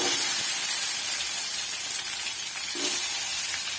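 Small chopped onions drop into hot oil with mustard seeds while making mango sambar, giving a steady, loud frying sizzle and hiss throughout with no talk.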